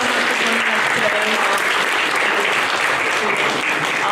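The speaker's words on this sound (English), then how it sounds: "let's give them a last round of applause" An audience at a film festival applauds, steady dense clapping at an even level throughout the short stretch, with no break.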